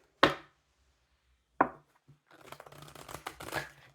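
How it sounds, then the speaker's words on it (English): Tarot cards being shuffled by hand: two sharp slaps are followed by a dense, crackling riffle of card edges, close and fairly soft, with no talking. "One more shuffle."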